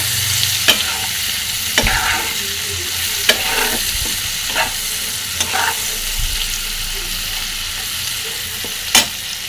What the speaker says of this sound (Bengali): এর ভিতরে দিয়ে দেব পেঁয়াজ কুচি আবারও কিছুক্ষণ ভেজে নেবেন